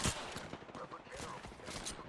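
Rapid gunfire in Apex Legends, a quick string of sharp, fairly faint shots over about two seconds, with busy game noise around them.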